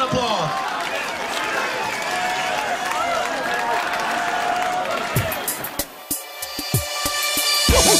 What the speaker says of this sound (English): Give us guys a round of applause.